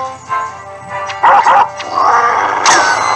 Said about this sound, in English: Ah, the classic beautiful dog sounds.